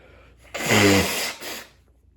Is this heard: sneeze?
yes